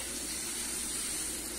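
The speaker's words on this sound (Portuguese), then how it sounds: "Começou a dourar, derrame 100 ml de água bem gelada" Ice-cold water, about 100 ml, is poured into a pan of browning chopped linguiça sausage. It makes a steady, loud, unbroken hiss and sizzle that holds for the whole moment, with no voices.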